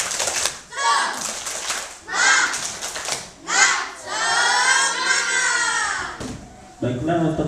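Children in an Indonesian school gathering do the tepuk semangat clapping chant, shouting loud rhythmic bursts together as a crowd, with a sustained group cry in the middle and claps toward the end.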